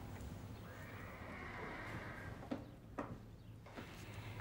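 A horse gives a long, clear whinny with a rising then falling pitch, followed by a few dull thumps and shuffling sounds nearby.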